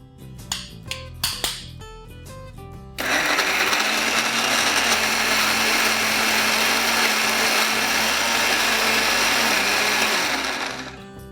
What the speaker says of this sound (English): Time to grind.